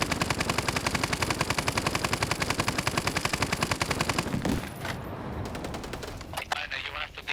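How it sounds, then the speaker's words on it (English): Rapid, rhythmic video game autocannon fire in a steady stream of loud bursts for about four seconds, then stopping, followed by scattered impacts and clatter. "I love how it gives the vanilla auto gun sound, or auto cannon sound"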